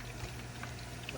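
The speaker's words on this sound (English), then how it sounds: "Frying these fries, y'all." Fries fry in hot grease outdoors, giving a quiet, steady bubbling sizzle that holds evenly through the short moment.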